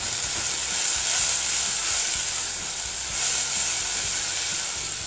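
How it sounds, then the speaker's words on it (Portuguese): Garlic and onion sautéing in a pan for a quick chicken stroganoff, giving a steady, close hiss of frying that holds evenly with faint stirring bumps underneath and no voices. "Eu gosto de refogar o alho, a cebola, tudo antes."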